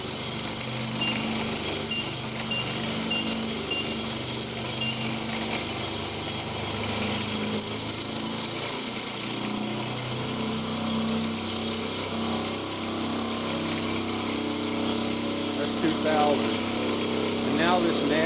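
An off-center rotor spins steadily up toward 2000 RPM, a loud continuous mechanical whir and hum with a harsh rattling noise carried through the chassis, holding for the whole stretch without talk.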